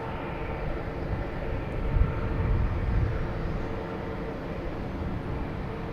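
A Delta airliner bound for Detroit taxiing at Boston Logan Airport, its engines a steady, fairly distant low drone that swells slightly in the middle before settling back.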